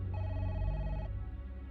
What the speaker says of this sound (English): You save the game by calling the phone.